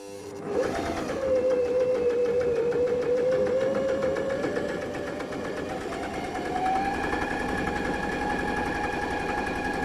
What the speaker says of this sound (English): your machine is going to be going slower, but you can see it's doing a beautiful stitch